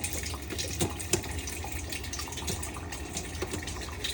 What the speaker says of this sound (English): just letting water in